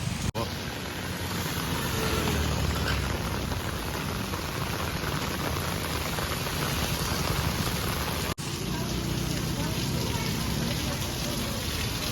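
Heavy rain pours down steadily beside a Gujarati breakfast street food stall, a dense continuous hiss with no pauses, with faint voices and bustle mixed underneath.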